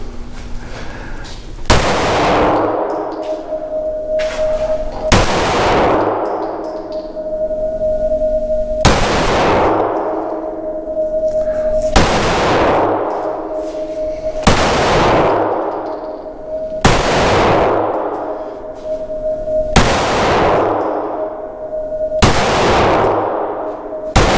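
Ten sharp gunshots from a compensated Echelon pistol with a .40 barrel fired at a target, spaced about two seconds apart in a steady rhythm, each a loud crack with a ringing tail, and no talking.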